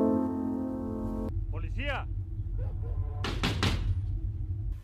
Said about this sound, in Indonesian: 2 orang petugas polisi Meksiko yang sedang mengetuk sebuah rumah dalam rangka investigasi